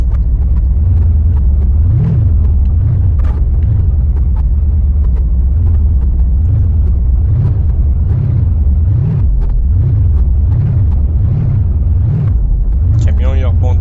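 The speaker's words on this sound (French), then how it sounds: "Le camion il rebondit partout." A truck crashes and bounces around in the BeamNG Drive game, with a continuous low engine rumble and repeated heavy thuds swelling every second or so. A voice talks throughout.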